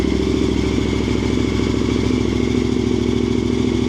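A KTM 1290 Super Adventure motorcycle with an SC-Project exhaust and muffler delete idling loud and close with a deep, bassy throb, steady and rhythmic, with no talking.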